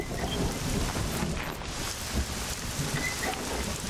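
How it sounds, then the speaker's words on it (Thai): Steady rain pours in the SCUM video game world, with a dense hiss of drops and a low distant rumble of thunder rolling underneath, no voices present. "รอฝนหยุด"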